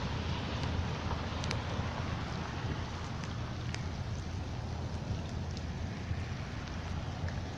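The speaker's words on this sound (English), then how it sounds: "But the rain is still coming down." Steady rain falls outdoors after a severe rainstorm, a soft, even hiss with scattered drop taps, faint and continuous with no talking.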